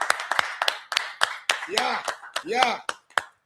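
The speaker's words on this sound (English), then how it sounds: "Round of applause." After Nigeria's AFCON group opener win over Tanzania, one person claps out a quick round of sharp, close handclaps, about a dozen spaced beats, while a voice talks over them.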